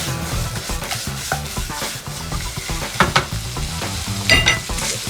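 Chicken hearts and livers frying with salt, stirred in a pan: a steady sizzle under scraping and rubbing strokes, with sharper clanks now and then, close and busy.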